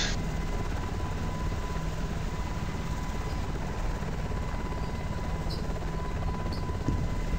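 A helicopter in the video game Arma 2 flies during a paratrooper drop and pickup, its rotor and engine giving a loud, constant droning hum that holds steady throughout, with no voices.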